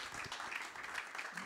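Audience applause at a small blockchain developer meetup, a steady, fairly quiet patter of clapping heard throughout.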